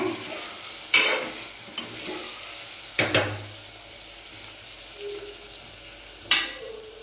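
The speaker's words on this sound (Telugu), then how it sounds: "ఇదిగోండి చికెన్ ఇలా దగ్గరికి ఫ్రై అయిపోయింది." Country chicken frying in a pan for a spicy curry, a low steady sizzle broken by a few loud scraping stirs of a utensil against the pan, close up and with no talking.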